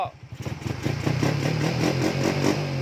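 A carburetted motorcycle engine revs up from a low rumble into a steady, throaty, pulsing roar close by, held at high revs with a rough mechanical clatter.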